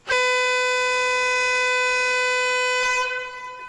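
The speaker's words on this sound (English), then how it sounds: "a sweet, succulent, beautiful woman honks her horn, literally." A car horn honks in the cartoon 12 Oz. Mouse, one loud, sustained, brassy blast held for about three seconds before it fades off abruptly.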